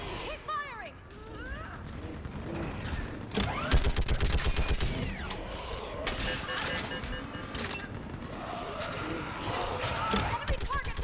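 Sustained automatic gunfire in a Mass Effect 3 firefight, dense rapid bursts that swell in from about three seconds and keep rattling on, with shouted combat voices over the shooting.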